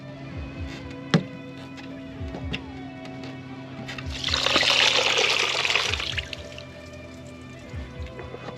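During a maintenance visit, water drains out of a drain, with steady drips and trickles, then a louder gushing pour in the middle before settling back to scattered drips close by.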